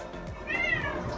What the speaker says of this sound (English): Are you thirsty, kitty?